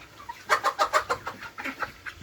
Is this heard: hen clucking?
yes